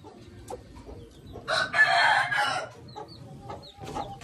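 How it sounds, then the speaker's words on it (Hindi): A brooding hen sitting on her eggs gives soft, scattered clucks, with one louder, harsher burst of calling in the middle, heard nearby in a quiet coop. "और एक मेरी मुर्गी ये है अंडे के लिए बैठी हुई है"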